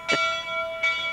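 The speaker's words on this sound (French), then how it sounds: "la cloche, ce n'est pas pour annoncer mon décès" A church bell rings out twice, each stroke clear and bright with a long, humming sustain that carries between them, with no voices alongside.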